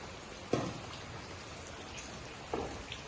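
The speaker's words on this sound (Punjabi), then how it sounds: "ਮੀਂਹ ਪੈ ਰਿਹਾ ਮੀਂਹ" Steady rain falls outdoors at evening around a farmyard where buffaloes are being milked, a constant patter broken by two sharper drip hits. Nobody speaks.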